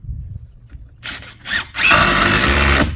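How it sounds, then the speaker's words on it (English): A power drill drives screws through a 2x6 kickboard into a wooden fence's lower support rail, with a couple of short bursts followed by a loud, sustained whirring grind at close range. "I'm listening as I screw it in to make sure it goes in and bites into that very lower support rail on the other side"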